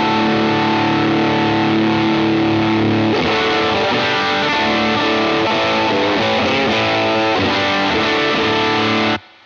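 Electric guitar played through a Mr. Jax signature distortion pedal, with the tone knob shaping the gain: loud, saturated sustained chords and a short riff, ringing continuously before cutting off abruptly at the end.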